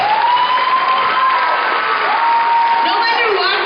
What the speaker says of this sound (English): Give a big round of applause for my Deeksha